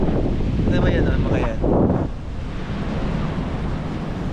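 Strong wind buffets the microphone while parasailing in Boracay, a loud, continuous roar, with a brief voice rising through it near the start.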